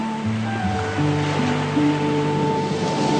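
Ocean waves breaking on a shore make a steady, loud broadband wash of surf, with sustained musical tones layered over it throughout.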